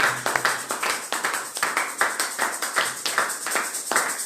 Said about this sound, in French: Können pour wir Jésus? für Jesus applaudieren